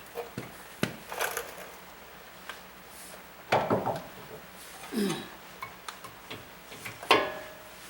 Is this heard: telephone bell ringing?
no